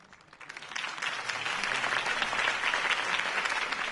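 A crowd applauds after a campaign speech in the Batman Telltale video game, the clapping swelling from quiet over the first second into a dense, steady roar that holds to the end.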